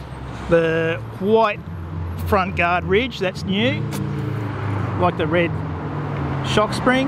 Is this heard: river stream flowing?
no